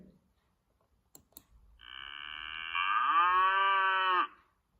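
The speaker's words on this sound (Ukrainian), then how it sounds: "Це корова. Корова мукає." A single long cow moo, rising and holding steady for a couple of seconds, heard clearly and alone after a couple of faint clicks.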